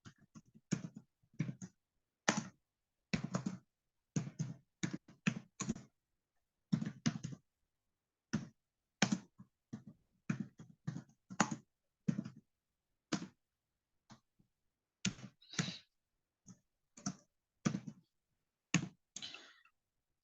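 Typing on a computer keyboard while writing PHP code for a SQL query, with irregular bursts of crisp clicking keystrokes close up and short pauses between runs, and no voice over it.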